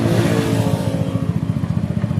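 A Honda Dio scooter engine idles steadily in a motorcycle parts repair shop, with a rapid, even putter that stays close and loud throughout, and no voices over it.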